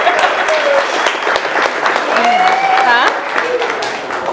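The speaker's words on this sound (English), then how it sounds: "Let's have a big round of applause for our matron of honor." Wedding reception guests applaud the matron of honor after her toast, with lively, close clapping along with whoops and excited voices and cheers rising over it.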